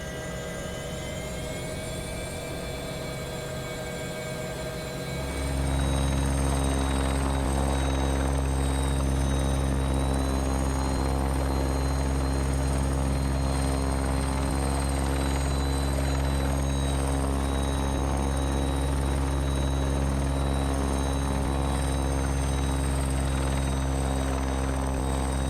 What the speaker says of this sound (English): the Concrete5 chopper, and Andrew has now landed